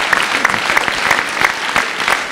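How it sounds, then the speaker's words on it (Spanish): An audience claps loudly for a mother during a motivational talk, brisk sustained applause with sharp individual claps standing out, lasting a couple of seconds. "¡Un aplauso para la mamá!"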